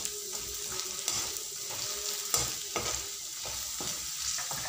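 A spoon stirs red chili powder, amchur and garam masala together in a hot pan for stuffed capsicum, giving soft sizzling under repeated scraping strokes and a few sharper clinks against the metal, close and steady throughout.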